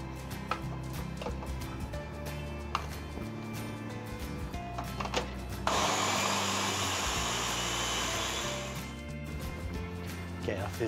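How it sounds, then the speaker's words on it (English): Food processor grinding sauce ingredients for osso buco sauce, a loud whirring motor burst of about three seconds in the middle, with kitchen clatter and someone talking before and after. "So all this is gonna be in the food processor. So, and we're gonna grind all together."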